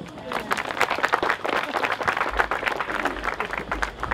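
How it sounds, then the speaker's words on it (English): Guests at a beach wedding applaud the couple, a lively burst of many people clapping nearby, uneven and sustained, with crowd murmur and a low rumble joining partway through. "So please give them a round of applause."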